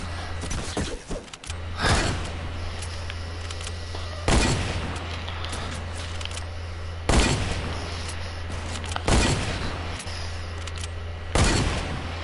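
Video game gunfire from a trick shot in a shooter match rings out as several sharp, loud shots spaced a few seconds apart over a steady background hum, with no talking.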